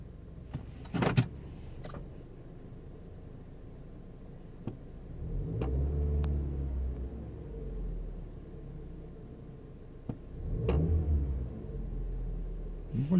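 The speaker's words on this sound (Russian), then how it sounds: "слышу тарахтение. Может быть, это мотор так тарахтит, и я его слышу." Engine of a Lexus UX heard from inside the cabin while driving: a steady low rumble that swells twice, with a few sharp clicks and knocks over it and no one talking.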